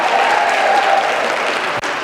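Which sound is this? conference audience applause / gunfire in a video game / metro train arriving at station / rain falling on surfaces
conference audience applause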